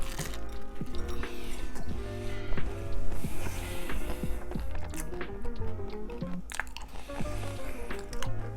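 Someone bites into and chews a Portuguese-style egg tart with a flaky pastry shell, making close, soft squishy mouth sounds and crumbly crunches over quiet tonal background music.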